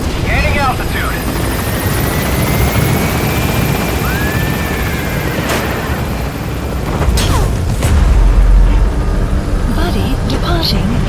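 A military helicopter lifts off in the Metal Gear Solid V: The Phantom Pain game, its rotor roar loud and churning, with whining turbine tones and sharp bursts over the top and voices mixed underneath.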